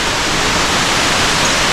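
Water rushing loudly and steadily through a tunnel at an abandoned dam project, a continuous roaring wash filling the whole clip with no break.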